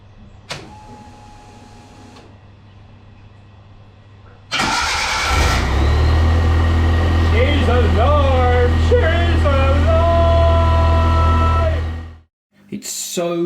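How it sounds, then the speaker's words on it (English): A 30-year-old car engine, back together after sitting for two months, cranks briefly and catches, then runs at a loud steady idle close by for several seconds before shutting off, with people talking over it. "It's so good to hear that car start again"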